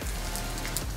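Rain falls outdoors near a gym in a steady, close hiss of drops, brief and continuous, with no talking.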